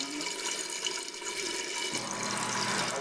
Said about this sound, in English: I saw it pouring into the tank.